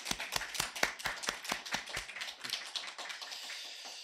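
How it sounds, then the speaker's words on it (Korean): Members of a small church congregation clap together in a quick, even rhythm of distinct claps that loosen into scattered, softer applause and fade toward the end. "박수 한번 쳐줍시다."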